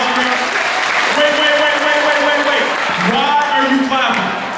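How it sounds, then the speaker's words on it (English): School audience at a high school motivational assembly applauding, a loud, close, continuous round of clapping with voices and cheering mixed in. "Let's give them a big round of applause."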